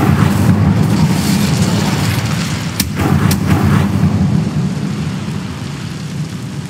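Incendio fire spells cast in Hogwarts Legacy: a loud, sustained crackling roar of flame fills the clip, punctuated by two sharp bursts near the middle. No talking is heard.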